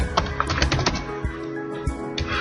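Fingers type on a computer keyboard in a quick burst of close key clicks, then slow to a few scattered taps, with a faint background hum and no talking.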